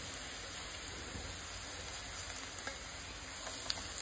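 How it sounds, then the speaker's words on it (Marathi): Spices go into a hot pan for Goan-style chole, giving a faint, steady, even sizzle with a few light stirring clicks. "हे मसाले जे आसा पळय ते हांव आतां हितून घालून घेता"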